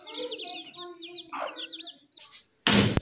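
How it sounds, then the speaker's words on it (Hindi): Desi chickens and newly hatched chicks clucking and cheeping, with overlapping high peeps and lower hen clucks, close and lively, ending in a short loud noisy burst. "जी देसी मुर्गी के बच्चे निकले हुए हैं।"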